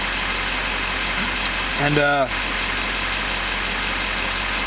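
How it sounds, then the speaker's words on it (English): A Duramax LLY diesel engine, checked for a fuel rail pressure regulator fault, idles at about 680 RPM with a steady, loud, even drone, and someone speaks briefly over it partway through. "right now I'm observing my engine fuel system, and the engine RPM is 680"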